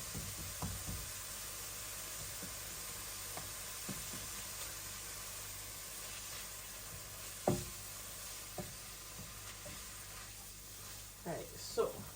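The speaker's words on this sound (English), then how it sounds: "Mince is browning up nicely" Mince browning in a pan gives a steady, soft sizzle throughout, with occasional scraping and stirring knocks, and a voice talks over it at times.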